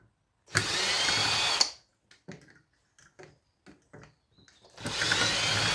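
A power drill backs screws out of scrap copper and brass, two loud continuous bursts of whirring at the start and end with faint clicks and handling noises between.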